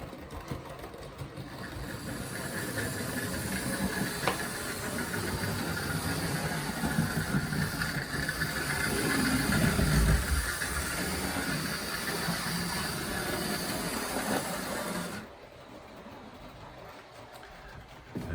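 A cheap secondhand Hornby King model locomotive runs laps around a layout, giving a steady mechanical whirr and rattle of motor and wheels on track that swells slightly, then drops off sharply near the end as it stops.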